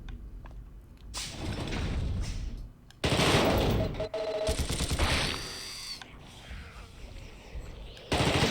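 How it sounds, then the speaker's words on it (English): Bursts of gunfire from The Thing: Remastered, loud rapid automatic volleys in several separate runs with brief gaps and thumps between them, no talking. "Shooting"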